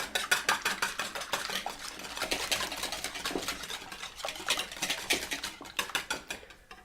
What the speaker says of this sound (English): And then I'm going to quickly whisk up the eggs.